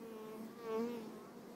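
Honeybees working horsetail flowers near the hives make a faint, steady buzzing, with one bee droning louder and swelling in pitch as it passes close midway.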